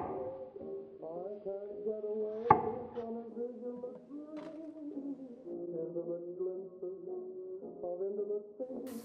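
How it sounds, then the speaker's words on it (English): A knife chopping peeled nutmeg pumpkin into equal squares on a cutting board, with a couple of sharp, isolated knife strikes standing out over steady melodic background music. "Start by peeling and cutting up some pumpkin."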